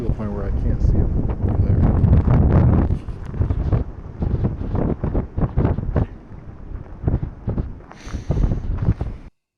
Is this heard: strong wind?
yes